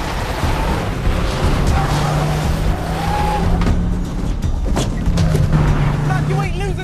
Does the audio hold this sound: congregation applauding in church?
no